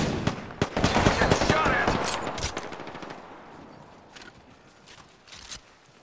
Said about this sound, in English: Opening fire. Get shot at.